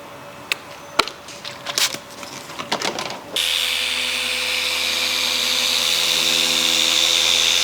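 Machine polisher buffing a car's paint before a ceramic coating is applied, a steady whirring drone that starts abruptly partway through after a few knocks and clicks, then runs continuously and fairly loud.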